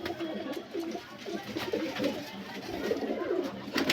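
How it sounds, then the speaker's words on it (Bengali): A large male pigeon coos close by in a soft, repeated, throaty rhythm over faint background noise. "এটা হচ্ছে নর পায়রা"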